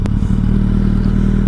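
Suzuki B-King 1340 motorcycle running steadily while being ridden, a loud, continuous low engine drone close by with a sharp knock near the start and no voices.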